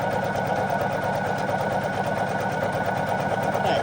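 A Poolin EOC06 embroidery machine stitches eyes onto felt, giving a continuous, fast, even mechanical whir and needle chatter close by, with no speech.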